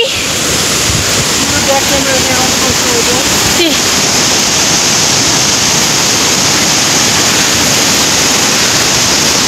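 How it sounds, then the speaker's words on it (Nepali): Waterfall on a hiking trail at Sundarijal, a loud, constant roar of rushing water filling the whole stretch, mixed with wind buffeting the microphone. "हाइकको फर्स्ट झर्ना आइपुग्यौँ हामी यही"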